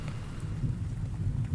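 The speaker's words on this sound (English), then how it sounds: "And to top it off, this goddamned rain." Steady rain in the video game Rainswept, a dense low rumbling wash with possible distant thunder, continuous and even throughout with no voices.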